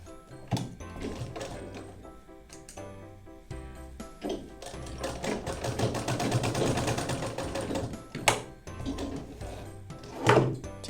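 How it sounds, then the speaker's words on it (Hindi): A sewing machine stitches blouse lining pieces in short bursts, then runs a longer steady whirring stretch with rapid needle clatter, separated by pauses and handling clunks. "एक कच्चा सिलाई यहाँ पर लगा करके हमने इसको फिक्स कर दिया।"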